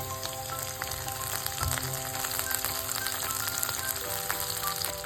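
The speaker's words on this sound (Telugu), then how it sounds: "ఈ క్యాప్సికమ్ ముక్కల్ని కొంచెం ఆయిల్లో ఫ్రై చేసుకోవాలి మంచిగా." Pieces of capsicum fry in hot oil, giving a continuous close sizzle with faint crackles and an occasional stir throughout.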